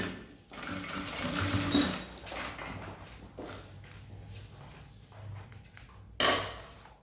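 Sewing machine stitching the bottom seam of a unisex toiletry bag with a zipper channel and gusset, running in loud bursts with a short stop, then a sharp clack near the end.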